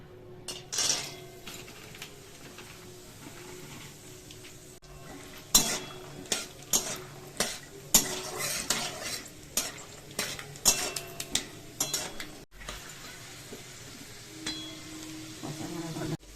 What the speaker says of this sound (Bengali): আমি চিনেবাদামগুলো ভেজে নিচ্ছি।